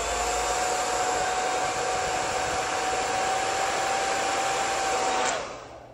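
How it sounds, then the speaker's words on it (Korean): A hair dryer blows air close to the scalp while a round brush styles hair for a salon practical exam. It gives a steady, loud whirring hiss that runs evenly for about five seconds, then cuts off and winds down. "이 상태에서 드라이기의 바람을 두피 안쪽 가까이 분사를 해주시면 되겠습니다"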